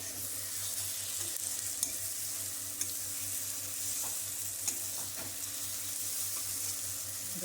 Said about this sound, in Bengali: ভালো করে মশলাটাকে কষিয়ে নেবো, মশলা থেকে তেল করে নেবে